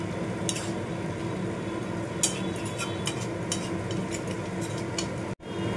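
Ridge gourd and potatoes in poppy seed paste stirred in a pan, giving a steady soft scraping and gentle sizzle with a few sharper utensil clicks, close and fairly quiet, no talking.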